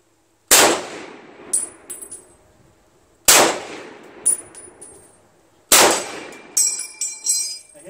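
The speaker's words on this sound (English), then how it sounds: "I hit that steel every time." M1 Garand rifle shots ring out three times at roughly even intervals, each a sharp crack followed by a bright metallic clang as the round strikes a man-sized steel target about 60 yards away, with ringing echoes trailing between shots.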